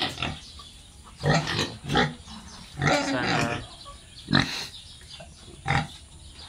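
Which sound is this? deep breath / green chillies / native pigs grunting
native pigs grunting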